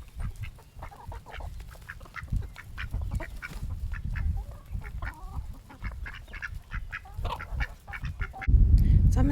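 Farmyard goose on a homestead garden plot honking repeatedly in short, irregular bursts, close and fairly loud, with a heavier rumble of handling noise near the end.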